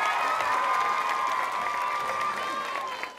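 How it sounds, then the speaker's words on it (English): Schoolchildren and adults give a round of applause for a student's birthday at a school gathering, steady clapping mixed with high, sustained cheering and shouting voices throughout. "Let's give Henry a round of applause."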